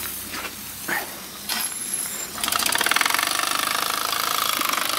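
Mamod Brooklands Roadster SA1 toy steam car starting up, hissing steam and a few puffs before a rapid, loud mechanical chuffing settles into a fast steady rhythm close by.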